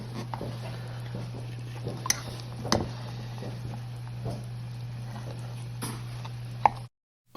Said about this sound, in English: as you stir your salsa before you move it to your fridge